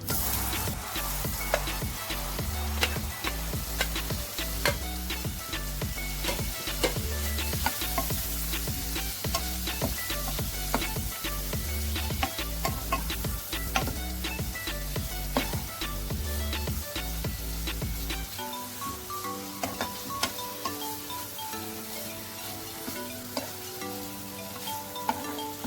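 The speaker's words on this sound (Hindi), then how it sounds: "में पनीर को फ्राई करेंगे।" Paneer cubes fry in a kadai with a little oil, red chilli powder, turmeric, cloves and cinnamon, giving a steady close sizzle with stirring scrapes throughout, a heavy music bed running underneath.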